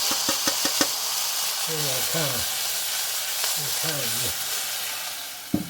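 Onion fries in pork fat in a pan with a loud, steady sizzle. Someone talks over it, there are a few sharp knocks of a utensil at the start, and a clunk comes near the end.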